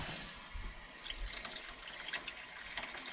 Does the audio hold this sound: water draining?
yes